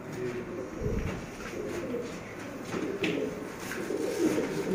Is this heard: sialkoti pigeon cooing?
yes